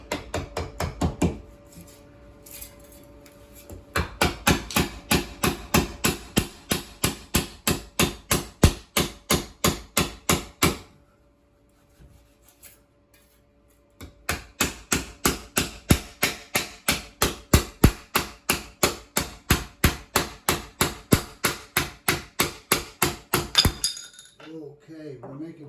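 A hammer drives a shim into the cut in thick granite while a backsplash is freed, sharp ringing metallic blows in rapid steady runs, then a pause and another long series, close and loud.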